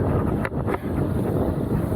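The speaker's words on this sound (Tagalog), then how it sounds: "Sobrang lakas ng resistance ng hangin, no?" Strong wind roars and buffets against the microphone while cycling across open rice fields in the Philippines, a continuous loud rush that never lets up, with no speech.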